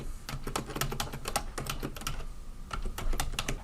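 Steady typing on a computer keyboard while starting a new Word document, dense clicky keystrokes in quick irregular rhythm, close and clear with no talking.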